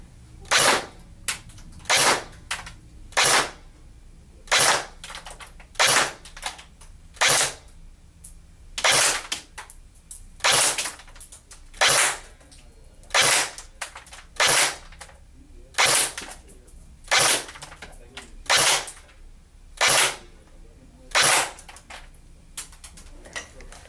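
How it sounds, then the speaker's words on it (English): Beretta ARX160 Elite airsoft electric rifle by Elite Force fired semi-auto into a chronograph: crisp, loud single shots at a steady pace of roughly one per second, about twenty in all, close and with no talking. "doing a chrono test with the Beretta ARX160 Elite version by Elite Force"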